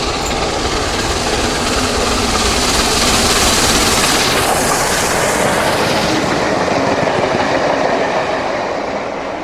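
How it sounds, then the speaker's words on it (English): Steam locomotive Tornado rushing past a station without stopping, a loud, sustained roar of rolling wheels with rhythmic clickety-clack and a brief swell of exhaust and rail noise as it passes close by. "The approaching train is not scheduled to stop at this station."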